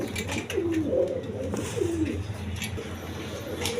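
A pair of pigeons kept for sale coo in repeated soft, throaty phrases close by, over a low background hum.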